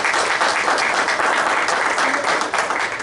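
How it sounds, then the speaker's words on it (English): A crowd claps steadily throughout, a dense continuous patter of applause at moderate volume with no voices standing out. "Let's give them a round of applause for hosting us."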